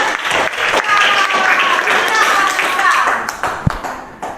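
A crowd claps and applauds steadily for a few seconds, with voices mixed in and a thump near the end as it tapers off.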